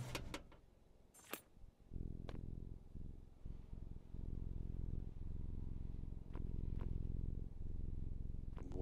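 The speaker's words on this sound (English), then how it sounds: "That like almost purring kind of sound." In a Roblox horror game, a low creature purr rumbles steadily, a continuous throaty drone that holds for several seconds beneath a few sharp clicks and knocks, with no voices over it.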